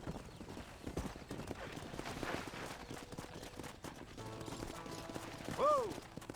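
Horse hooves clip-clop steadily in Red Dead Redemption around a ranch stable, a quiet rhythmic trot under faint mechanical rattles, ending with a short horse whinny.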